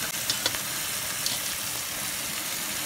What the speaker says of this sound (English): Let's throw some onions.